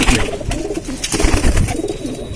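A pigeon coos close by in a home loft in Lucknow, repeated throaty murmurs in a loose rhythm with some clatter and rustling around it.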